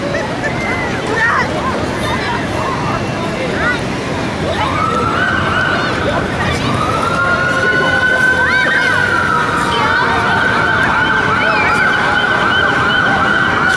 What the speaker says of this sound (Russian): Слышен вой сирен.